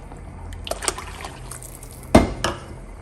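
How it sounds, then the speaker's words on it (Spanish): Water being added to a cooking pot in a home kitchen, a short splashing pour with light clinks of the vessel against the pot, plus a few softer knocks and trickles before it. "A mí me faltaron 2 tacitas de agua porque ya no se las puedo poner en el vaso, pero las voy a agregar aquí."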